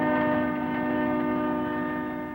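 Amtrak passenger train on a run toward Chicago, giving a steady, loud rumbling drone with sustained tonal hum throughout, no voices present.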